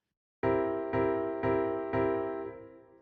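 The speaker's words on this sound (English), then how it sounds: "An example of a dominant seventh is the C dominant seventh" A C dominant seventh chord played four times in even succession on a keyboard-like instrument, each strike bright and sustained, the last ringing out and fading, with no talking.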